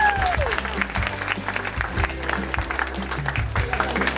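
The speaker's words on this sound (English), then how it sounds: "give them a round of applause for what they did." Audience applause for young volunteers in blue shirts at a charity tailgate event for kids, a steady round of clapping throughout with a low musical hum beneath and some voices mixed in.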